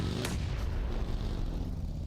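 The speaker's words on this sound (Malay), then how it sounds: "Tembakan dilepaskan." Gunfire in a PUBG Mobile esports match, a single sharp crack near the start followed by a dense, continuous rumble of game ambience and distant fire.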